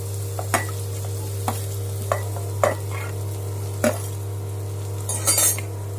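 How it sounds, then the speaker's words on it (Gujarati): Potatoes and carrots going into a pot for khichdi, a low steady sizzle under a constant hum, with sparse clinks and stirring scrapes of a utensil against the pot. "હવે બટેટું ને ગાજર નાખી દઉં જરાક"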